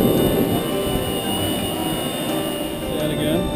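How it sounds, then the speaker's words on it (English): A spinning wind turbine's generator gives a steady, loud mechanical hum and whine with a broad rushing drone, heard close up and continuous throughout. "so that's that sound we're hearing. Yeah, we're on the generator."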